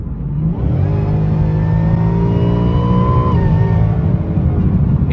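Ford Mustang GT with a freshly installed catback exhaust accelerates hard, a loud, continuous deep engine roar rising in pitch as it pulls through the gears, heard close from the car with no voices.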